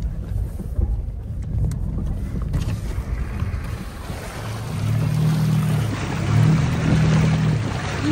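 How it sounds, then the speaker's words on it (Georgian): An off-road car fords a river in the Iceland highlands: continuous wash and rumble of water and engine, with wind buffeting the microphone, growing louder and heavier in the second half. "პირველი მდინარის გადალახვა გვაქვს სხვათა შორის."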